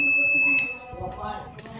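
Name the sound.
continuity buzzer beeping on Aneng ST180 clamp meter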